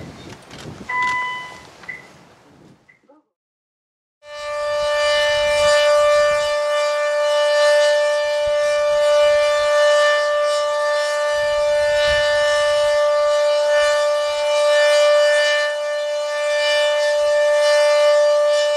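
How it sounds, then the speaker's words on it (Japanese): A civil defense siren sounds at the 2015 Yuriage memorial event for the March 11 disaster, a steady sustained wail with harmonics held loud and outdoors for about fifteen seconds after brief quiet and some windy background. "まもなくサイレンが鳴るはずです。"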